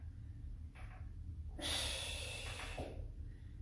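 A strong breath pushed out during a workout: one long, loud exhale rising sharply and tailing off, preceded by a softer breath, close to the microphone.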